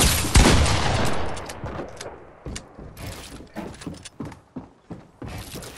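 Rapid bursts of gunfire in the video game Fortnite crack out loud and close, starting with a dense opening volley, then trailing into a string of separate shots spaced irregularly.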